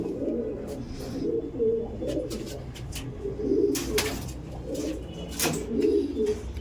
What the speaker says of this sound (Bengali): আর সব অ্যাগ্রেসিভ পায়রা, সবই সুন্দর সুন্দর পুরাতন পায়রা